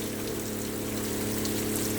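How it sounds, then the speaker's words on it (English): Heavy rainwater flowing during a flash-flood warning, a dense continuous rush and hiss of moving water with a steady low hum beneath, close and unbroken for two seconds without speech. "this is just going to be a little short clip showing how much rain we're getting today."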